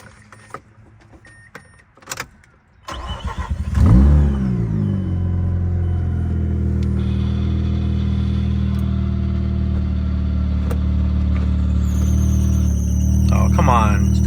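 A Mazda RX-8 with a newly repaired belt cranks with a few brief clicks, catches and settles into a steady, loud rotary idle that holds to the end, with a faint whine rising near the close.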